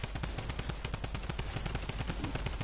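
Rapid automatic gunfire in Fortnite's John Wick limited-time mode, a loud unbroken burst of evenly spaced shots rattling on without pause.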